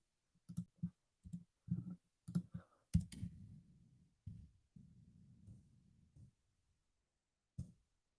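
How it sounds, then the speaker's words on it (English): Keys clack on a computer keyboard in short separate bursts of clicks, close and crisp, then a longer run of softer rapid tapping, a pause, and one final keystroke. "Sorry, I'm typing."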